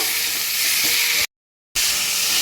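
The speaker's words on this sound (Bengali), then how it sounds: "এবার আমি ভালো করে একটু কষিয়ে নেব" Spices and salt sizzle loudly and steadily as they are stir-fried in hot oil, a dense close hiss broken by a brief moment of total silence midway.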